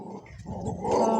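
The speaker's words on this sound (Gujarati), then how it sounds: "આપણે સામે કૂતરું છે" A street dog growls low and close, a brief rumbling snarl that swells louder toward the end, with no talking over it.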